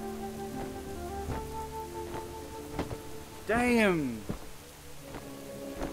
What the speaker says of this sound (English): And it's raining.